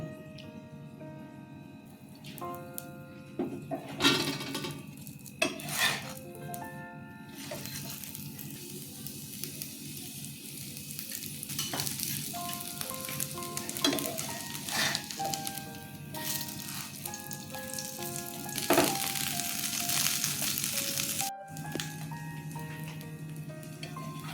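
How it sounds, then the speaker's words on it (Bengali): Aloo paratha frying in refined oil on a pan, a steady close sizzle running throughout with scattered ticks and clinks of utensils over it. "আমি রিফাইন অয়েল দিয়ে ভাজছি আপনারা চাইলে ঘি দিয়ে ভাজতে পারেন"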